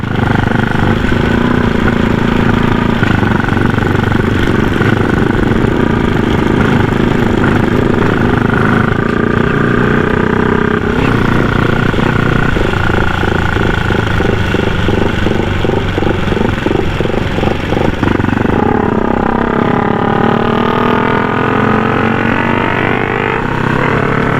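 A Honda Wave four-valve motorcycle engine, 110 or 125, runs steadily and loudly close by, with shifts in revving pitch and no talk over it.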